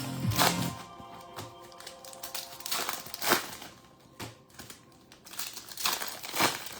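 A Topps Bowman trading card hobby pack is ripped open up close, with bursts of crinkling foil wrapper and tearing, interspersed with soft rustling as the cards are handled.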